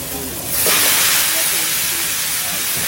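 Bitter gourd drops into a hot pan of sautéed garlic and onion, bursting into a loud, steady hiss of sizzling that continues unbroken to the end.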